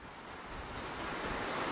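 Waves wash steadily on the beach at the freshwater end of Compton Bay, a continuous broad roar of surf mixed with wind buffeting the microphone, growing slightly louder throughout.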